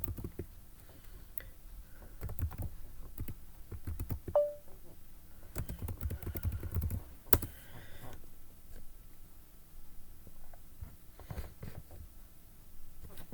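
Someone types a Splunk restart command on a computer keyboard in a home lab setup. Quick, irregular key clicks come in bursts near the microphone, with a few louder keystrokes and short pauses, and no talking.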